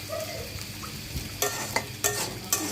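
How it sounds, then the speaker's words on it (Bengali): Eggplant slices frying in oil in a pan: a close, steady sizzle broken by several sharp scrapes and clinks of a utensil against the pan, and no voices. "সো দেখুন ভাজা হয়ে যাচ্ছে।"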